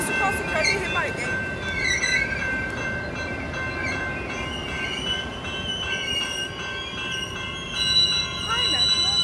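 Metra commuter train approaching the Harvard, Illinois station, a steady loud rumble of wheels on rails with squealing and a horn, people talking nearby.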